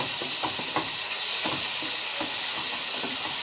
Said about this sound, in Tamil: பிரிஞ்சி இலை, வெங்காயம் நல்லா ப்ரௌன் ஆகணும்